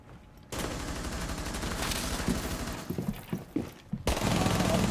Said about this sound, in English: I shot my own captain!